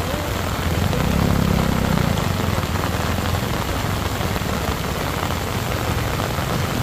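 Heavy rain falls steadily at the Batu Jomba landslide site, a dense continuous hiss with a low rumble underneath and no break across the whole stretch.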